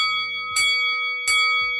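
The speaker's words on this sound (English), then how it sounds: "Those are the famous boxing bells, the starting 5 boxing bells." Two sharp clangs of a boxing bell ring out loudly, each followed by a long, bright metallic decay, with no voices.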